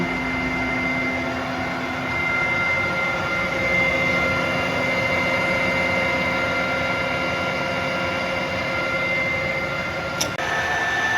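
A Tarnow TUJ-50M engine lathe runs with its spindle at 1000 RPM, a steady loud mechanical drone with sustained tonal whine and hum, broken by a brief click and a slight pitch change near the end.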